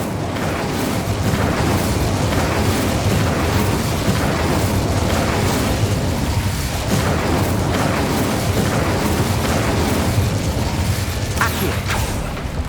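The Incendio fire spell in the video game Hogwarts Legacy roars as a dense, continuous whoosh of flame and bursts over about thirteen seconds, loud and steady with flickering crackles throughout.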